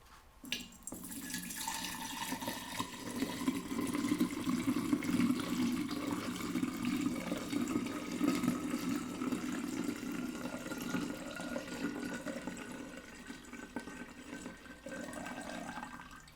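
Vodka and maple syrup mixture poured from a spout, a steady close liquid stream running continuously for about fifteen seconds with a faint trickle near the end.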